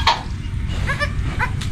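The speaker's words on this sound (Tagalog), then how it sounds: "nakanak na yung kambing natin" A goat on a Philippine farm gives short, close bleats against a steady outdoor background, with no talk.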